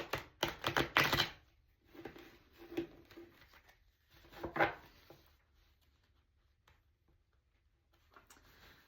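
A few bursts of riffling tarot card shuffles, crisp and close, with quieter pauses between and a brief faint clatter near the end.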